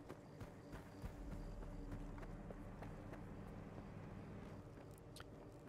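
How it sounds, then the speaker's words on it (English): Running footsteps in S.T.A.L.K.E.R. 2, a rapid, regular patter of steps over low ambient game noise, quiet and fairly close, with no clear speech. "Yeah, it has footsteps."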